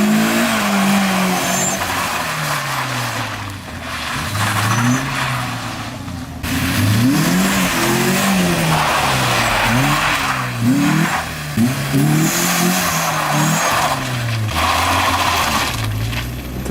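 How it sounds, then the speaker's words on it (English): A stock-ish Nissan 240SX doing a reverse burnout on a back road: the engine revs up and down repeatedly while the tires squeal and skid, loud and close. "The reverse burnout."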